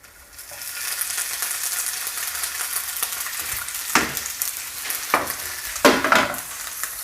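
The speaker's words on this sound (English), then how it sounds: "So I'll just mix them in here with the shallots." Fat hen seeds frying in a pan with shallots, a loud steady sizzle close by, broken by several scraping stirs of a utensil, with no voices.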